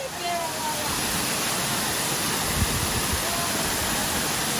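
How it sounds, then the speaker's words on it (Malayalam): A waterfall roars in a continuous, dense, loud wash of noise at dusk, with a voice speaking faintly beneath the steady rush. "വെള്ളച്ചാട്ടം."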